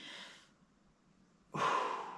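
Deliberate breaths during an exercise break, one breathy exhale fading out, a short pause, then a sharp, loud intake or puff of air, close to the microphone with no talking.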